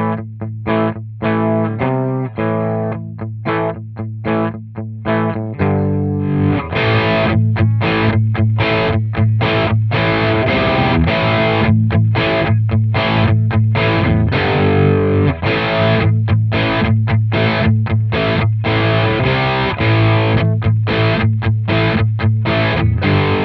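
A loud overdrive/distortion pedal tone played as chords and riffs through a guitar rig at several bias voltage settings, with rough, gritty grain and continuous sustained playing with short gaps between phrases.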